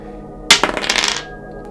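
A single die is rolled, clattering briefly and sharply across a hard surface for under a second before the room falls quiet again.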